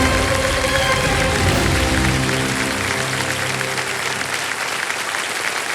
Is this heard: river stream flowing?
no